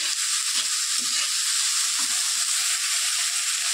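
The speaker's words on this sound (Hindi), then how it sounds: "इसको खूब भूनेगी, ये लाल हो जाएगा सब कुछ" Food fries in a pan while it is stirred, giving a continuous bright sizzle with a few soft low knocks from the stirring, close up and with no voices.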